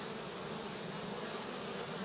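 Honeybees and drones cluster at a hive entrance, filling the air with a constant soft, even buzz of many wings, faint and close, with no voices.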